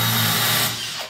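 A power drill bores through wet porcelain tile during a bathroom refit, giving a loud, steady, high grinding whine that drops off near the end of the short burst, with no talking.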